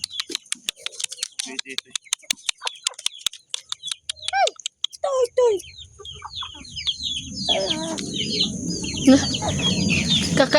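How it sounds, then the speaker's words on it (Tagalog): Chickens clucking on a mountain outing, short rhythmic clucks and calls close by over a continuous outdoor background, with people talking at times. "Kakaibang manok to ah."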